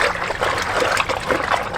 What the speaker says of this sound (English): Shane has taken out the good old scrubber and is scrubbing away